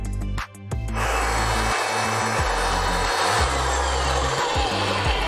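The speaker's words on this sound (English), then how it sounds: "and we got our reamer here" A RIDGID 300 pipe threader reams the end of a pipe, a loud steady grinding and scraping over a low motor hum that starts after a brief pause and runs continuously, with no speech.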